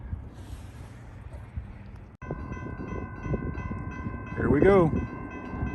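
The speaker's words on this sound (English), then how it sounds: "CSX 408 axles, southbound." Long CSX freight train of 408 axles heading southbound on a far track, a low rumble of wagons that grows louder and is joined by a horn blast, with brief talk early on.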